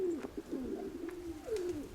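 A pigeon coos close by, several soft, rolling calls repeating in quick succession with no other voices.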